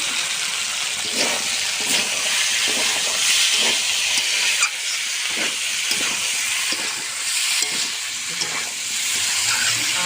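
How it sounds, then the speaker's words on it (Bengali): Meat and fried potatoes sizzle loudly in a pan for village-style Bengali ghugni, a dense continuous frying hiss broken by repeated scraping stirs, close and with no talk. "আলু আর মাংস দিয়ে আমি সুন্দর করে কষবো, এইভাবে কিছুক্ষণের জন্য কষে নেব"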